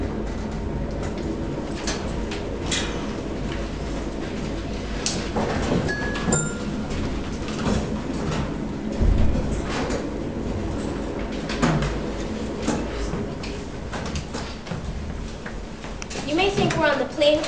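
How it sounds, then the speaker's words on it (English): A New York MTA subway train runs with a steady, loud rumble and rattle throughout, and a brief wheel squeal rises near the end, with faint voices in the car. "this train could be going anywhere"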